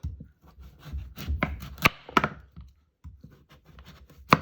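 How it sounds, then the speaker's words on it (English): A knife cuts peeled, rinsed butternut squash on a board, with soft scattered thuds and a few sharper chops at irregular intervals, quiet and close. "So now we've peeled our butternut squash. I rinsed them a little. So now what we're going to do is we're going to cut them up."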